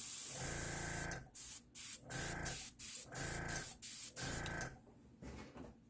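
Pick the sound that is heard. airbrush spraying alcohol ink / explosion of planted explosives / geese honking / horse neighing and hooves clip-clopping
airbrush spraying alcohol ink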